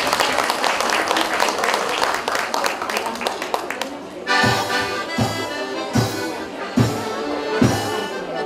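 A crowd at an outdoor Easter festival stage claps loudly for a band, steady dense applause at first, then giving way to rhythmic thumping music beats with broadband hits about every second.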